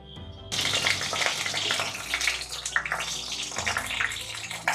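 Pieces of eggplant hit hot oil and erupt into loud, crackling sizzle, with a steady spluttering hiss that continues close up for several seconds.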